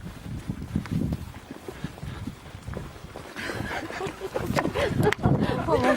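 Horse hooves clip-clopping on hard ground with snorts and shuffling, while people talk nearby outdoors.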